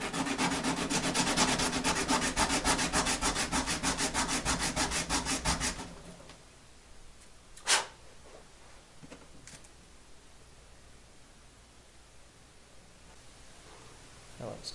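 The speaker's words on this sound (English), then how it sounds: "I'm going to go ahead and sand that down flat." Sanding a ridge flat on a control horn during assembly of a Wicked Yak 55 model plane, a rapid, rhythmic back-and-forth rasping for about six seconds, close and loud, then quiet with a few small knocks.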